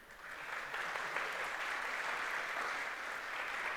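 Audience at a doctoral college start-of-year event applauds in a steady, even wash of clapping from many hands, sustained throughout at moderate volume.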